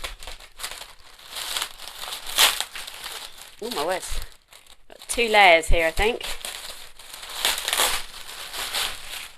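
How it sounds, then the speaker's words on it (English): Close crinkling and rustling of plastic wrapping being pulled open on a fabric delivery, loud in bursts, with a person talking over it. "Sorry about all the rustling."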